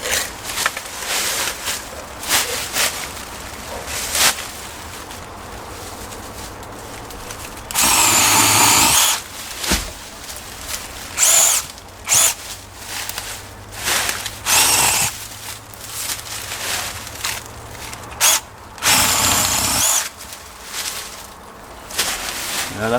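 A small Kebtek 8-inch cordless chainsaw cuts down a leylandii tree, heard as repeated close whining bursts of cutting broken by pauses, with a longer loud run in the middle and another near the end.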